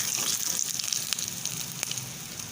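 Onions frying in oil for a Kerala tomato curry, a soft, steady sizzle with a few faint ticks and crackles, close but fairly quiet, no voices.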